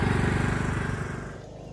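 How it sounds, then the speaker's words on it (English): A riding lawnmower drives around in circles at a campsite, its engine a loud, close, steady buzzing drone that fades slightly as it moves off. "he wants to drive the lawnmower around, so he's just kind of driving around in circles."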